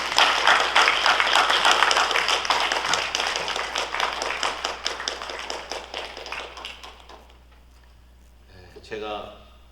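A church congregation claps to welcome a pastor to the front, a sustained round of applause that gradually fades out, with a voice starting to speak at the end.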